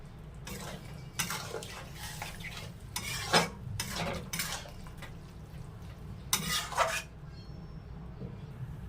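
Water poured into a pot of fried soybeans while cooking an egg and soybean curry: scattered close clinks and scraping of a utensil against the pot, with a few splashy bursts over a low background hum.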